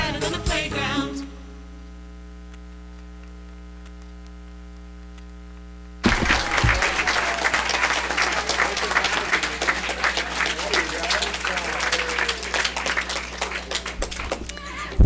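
A school board meeting audience applauds preschoolers: after a strong mains hum over a near-silent stretch, loud, sustained clapping from many hands starts abruptly and continues steadily to the end.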